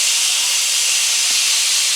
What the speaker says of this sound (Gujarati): કુકરમાં દૂધીનું શાક છે એટલે સીટી પડાવવા રાખ્યું છે.